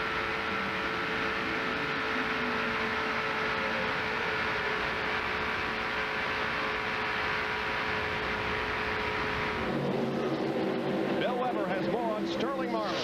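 Stock cars roar past at the finish line of the 1996 Pepsi 400 NASCAR race, a dense, steady engine wash filling the air before a crowd-like shift near the end.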